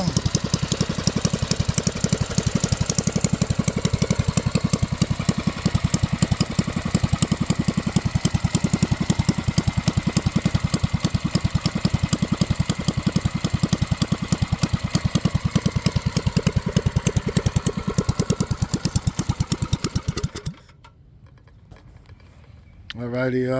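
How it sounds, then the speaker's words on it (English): Non-Hemi Predator mini bike engine with straight pipe and air filter idles steadily and loud for about twenty seconds, a close, rapid putter with a voice briefly heard, then cuts off near the end. "Go ahead, let it idle down"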